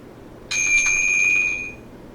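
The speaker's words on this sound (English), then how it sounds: "The next one is chime." The 'chime' notification on a Samsung Galaxy J3 Orbit, a single high, clear bell-like tone that rings steadily for about a second before fading, close and isolated without speech.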